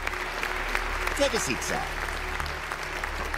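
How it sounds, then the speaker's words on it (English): Cartoon audience applause, a steady bed of clapping that runs throughout while someone speaks briefly over it. "Ladies and gentlemen, give him a round of applause."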